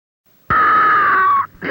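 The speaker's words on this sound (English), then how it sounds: "The scream you have just heard was not mine, but was rather from one of the scenes of a motion picture called Psycho." A woman's loud, sustained, high-pitched scream from a scene in the film Psycho rings out for about a second, cuts off abruptly, then starts again.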